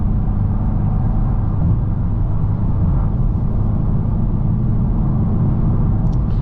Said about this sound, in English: Take it up to 80. Check out the road noise.